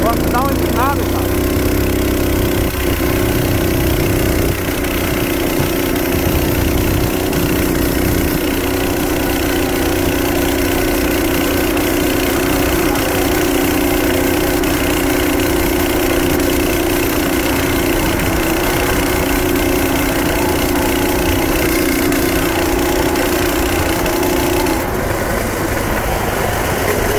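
A motorized bicycle fitted with a stationary engine drones continuously and close up for the whole stretch, its steady buzzing note holding fairly even while riding along a rough road.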